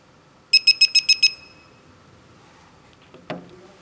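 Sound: metal detector pinpointer short beeps

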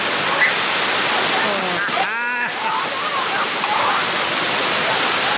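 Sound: waterfall water rushing

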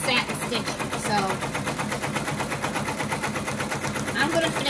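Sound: embroidery machine doing tack-down satin stitching on a hat

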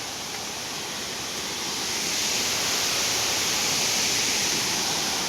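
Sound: waterfall at Patanvav hills

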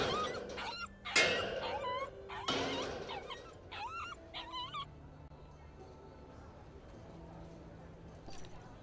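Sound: dog whimpering in The Inquisitor video game

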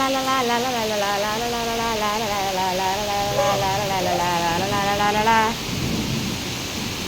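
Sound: rain falling

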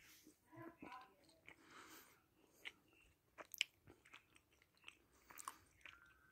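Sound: biting and chewing a Whittaker's 33% cocoa peanut butter chocolate bar

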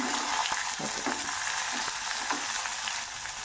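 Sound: mustard seeds and cumin frying in oil

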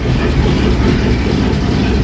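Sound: 1968 Mustang engine started up

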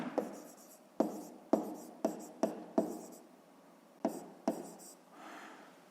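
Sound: pen writing on paper

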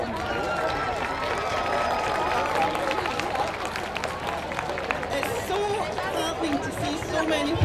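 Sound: crowd applause

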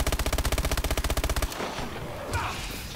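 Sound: gunfire shooting zombies in a video game (Call of Duty Exo Zombies)

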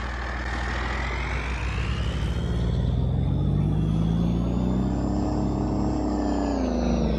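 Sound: truck engine starting in video game Farming Simulator 22

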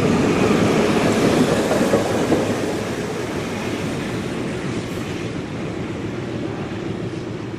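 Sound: diesel-hauled train passing at Steamfest

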